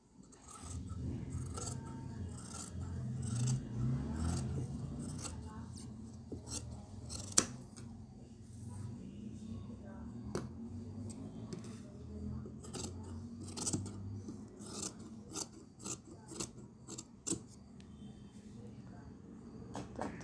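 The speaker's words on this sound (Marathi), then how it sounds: "त्याला पण आपण छोटे छोटे कट मारून घेतलेले आहेत" Scissors snip through fabric for a blouse patch in a run of small, repeated close-up cuts, with light rustling of cloth between the snips.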